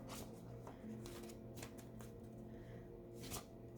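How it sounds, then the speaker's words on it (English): Oracle cards are shuffled by hand close up, with quick repeated riffling flutters and soft slaps in bursts, fairly quiet and with no speech. "Now let's pull some oracle cards and see what they say."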